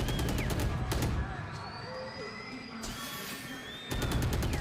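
Gunfire in a professional Valorant esports match, with bursts of rapid shots at the start and the end, a quieter stretch between them, and the shots mixed into game sound and casters' commentary.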